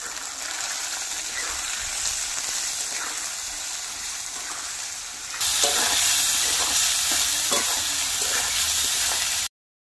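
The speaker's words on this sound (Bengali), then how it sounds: "এবার মশলাটা কষিয়ে নেব ভালোভাবে" Spice paste of tomato, turmeric and salt frying and being stirred in a pan for a potato and pointed gourd curry, a steady loud sizzle with spatula scrapes that grows louder and brighter midway, no talking.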